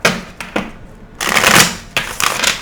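Tarot cards are shuffled close by in several riffling bursts, a crisp papery flutter with brief pauses between.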